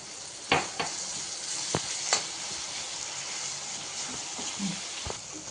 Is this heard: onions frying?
yes